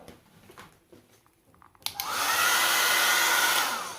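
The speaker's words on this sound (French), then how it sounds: "on sèche avec le sèche-cheveux" A hair dryer switches on after some quiet handling sounds, then blows with a steady loud whooshing hum.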